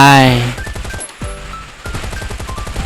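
Automatic gunfire in the survival video game Last Island of Survival, rapid repeated shots in bursts with a short gap midway, loud and close, with a voice briefly heard early on.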